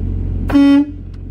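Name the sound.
truck air horn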